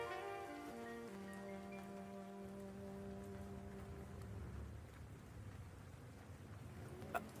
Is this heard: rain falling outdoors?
yes